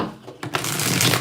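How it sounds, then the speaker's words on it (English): A deck of tarot cards is riffle-shuffled close up, a sharp start followed by a dense, rapid fluttering of cards that runs to the end, with no talk. "Let's get 4 shuffles."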